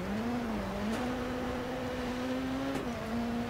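A Ford Focus rallycross car in the DiRT 4 racing game drones with a steady, slightly wavering engine tone at high revs, dipping briefly near the end before holding again, loud and constant with no talk.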